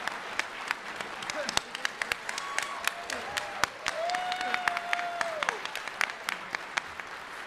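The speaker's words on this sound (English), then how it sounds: "I would like everyone to give our photography team a big round of applause" Convention audience at a closing ceremony applauding, a fairly sparse patter of individual claps, some sharp and close, mixed with a few voices speaking underneath.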